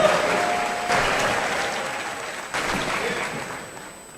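A graduation crowd applauds steadily at a moderate distance in a large hall, a continuous wash of clapping that swells again partway through, with no talk over it.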